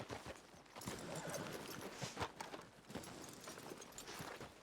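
Steady clip-clop of horse hooves at a walking pace in Red Dead Redemption, moderately close, over a dense background of ambient noise, with no talking.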